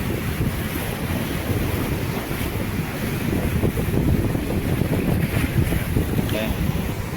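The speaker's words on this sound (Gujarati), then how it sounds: "કેવા મોજા છે ઉછળે છે જો" Ocean waves surge and churn steadily under heavy wind rumble, a continuous loud wash of water around a fishing boat moving out through rough sea.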